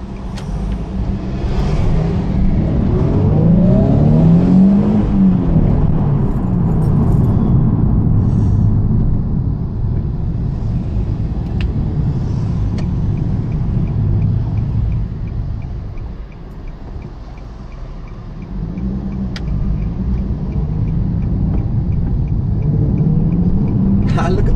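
A Nissan 350Z's engine drones loud and steady as the car takes a corner, the pitch rising and falling with the revs, while someone talks over it.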